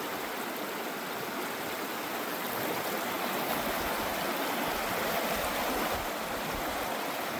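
The Norfolk River flowing at Blair Bridge in Missouri's Ozark Mountains, a steady, even rush of water that fills the scene without pause or voices.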